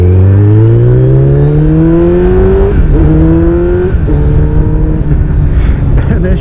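A Kawasaki Z900 motorcycle fitted with an Akrapovic exhaust revs loudly and up close, its engine note climbing steadily through the gears in rising sweeps with brief dips between shifts, continuous for the whole stretch.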